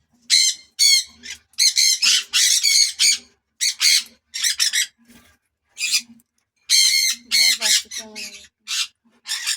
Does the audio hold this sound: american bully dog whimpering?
no